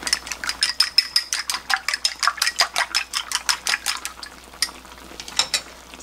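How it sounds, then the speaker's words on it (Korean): Two eggs are beaten in a bowl for a tonkatsu rice bowl, with a steady run of quick, bright clinking whisks of utensil against the dish, close and crisp, slowing into a few irregular taps near the end. "그리고 계란 두 개를 풀어줍니다."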